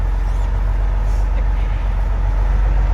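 A big rig truck rumbles steadily under way, its loud, continuous low engine drone close by inside the cab with road noise and no talking.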